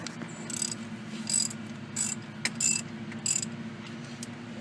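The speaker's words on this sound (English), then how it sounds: "You get your ratchet and a 22 millimeter socket." A hand ratchet fitted with a 22 mm socket works on a wheel of a 2003 Kia Sedona during a rotor change, giving several short bursts of rapid metallic clicking over a steady low hum.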